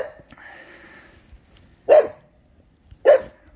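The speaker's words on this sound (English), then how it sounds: "That dog's bark is annoying." A dog barks twice outdoors, two sharp, fairly loud barks spaced about a second apart after a quiet stretch of faint background noise.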